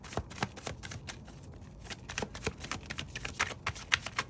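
Tarot cards being shuffled by hand in rapid, irregular riffling bursts, close and fairly quiet, with almost no talking.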